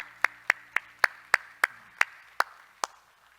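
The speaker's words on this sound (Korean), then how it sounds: "우리 하나님께 영광의 박수합시다" Sharp, crisp claps ring out in a church service, about nine distinct strikes in a steady rhythm that slows toward the end, close and isolated with no voices.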